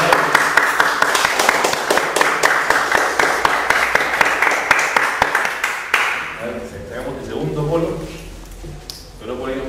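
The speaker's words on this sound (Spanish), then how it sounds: "Un aplauso, por favor, para estos feliz ganador." Applause for a prize winner at a prize draw, sounding as steady rhythmic clapping from a small group for about six seconds, then giving way to talk and background murmur.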